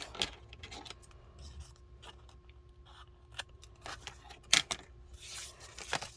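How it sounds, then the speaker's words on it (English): Scissors snip a piece off while a pocket is being made, giving a few short, crisp cuts and rustles at close range in a quiet room, with no talking. "And then we're going to cut this piece off."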